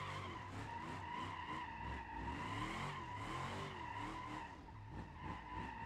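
Drifting car in BeamNG, a continuous tire squeal and skid with wavering pitch over a steady engine drone, sliding through tight port corners, close and sustained throughout.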